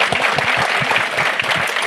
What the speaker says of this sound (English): Let's give Daryl a round of applause.